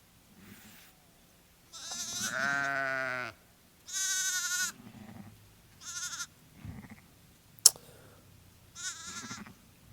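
Ewe and her lambs bleat in a string of loud, close calls, several long quavering cries with shorter bleats between them, plus one sharp click, during maternal-behaviour research with sheep.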